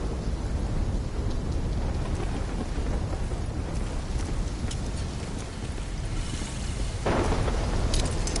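A thunderstorm in Call of Duty Black Ops 3 gives steady heavy rain hiss with low rumbling, swelling near the end into a louder crack of thunder.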